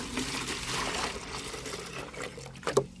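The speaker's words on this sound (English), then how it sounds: "Rinse this off with some water." Water trickles and splashes steadily at a moderate distance, with a small clink near the end.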